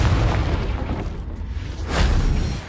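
Confringo spell explosion in Hogwarts Legacy, a heavy rumbling boom that fades briefly and swells again into a second dull blast, loud and close with no talk.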